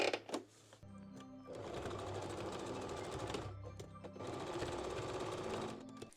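A sewing machine runs a long straight stitch through bikini fabric in two sustained bursts, its motor hum and rapid needle chatter steady and close, with a brief pause between runs and no talk.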